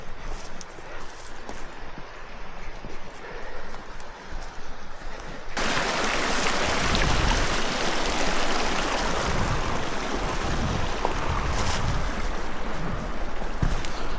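Creek water flows during a Colorado elk hunt, first a moderate rushing babble, then a sudden jump to a loud close roar of churning water, with occasional knocks and splashes.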